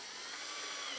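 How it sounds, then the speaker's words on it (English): Power drill whirring steadily for about a second while boring a hole during a Honda TransAlp HFK install, a close, continuous high-pitched whine. "and then we're going to drill this."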